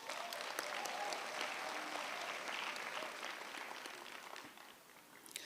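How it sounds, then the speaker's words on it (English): Graduation ceremony guests at Sol Plaatje University give the faculty a sustained round of applause, dense crowd clapping filling the hall and tapering off near the end. "Can we give the faculty a round of applause?"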